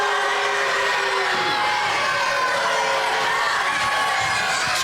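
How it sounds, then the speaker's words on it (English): Wrestling arena crowd at an American Wrestle Fest event, a broad sustained roar of voices reacting with disapproval, steady and dense throughout without a clear peak. "Crowd here not liking what they are seeing."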